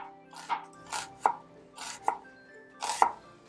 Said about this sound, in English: Put some shallot. Cut it thin.